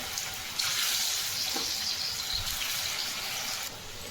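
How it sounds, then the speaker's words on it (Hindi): Moringa leaf snacks fry in hot oil in a kadhai, giving off a steady, close sizzle and hiss throughout with no voices. "और इस नाश्ते को अब हमें अच्छे से फ्राई कर लेना है।"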